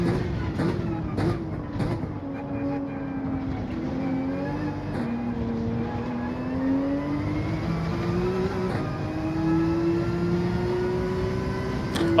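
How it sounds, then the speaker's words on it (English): A Lamborghini Gr.3 race car engine drones steadily in the video game Gran Turismo 7 at the Suzuka circuit, its pitch sweeping up and down through the gears with brief clicks over a constant close roar. "Oh, the Lamborghini sounds amazing."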